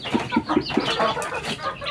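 Free-range village chickens clucking steadily while feeding on bran mixed with papaya leaves, a close cluster of short repeated clucks with a little wing movement and no talking.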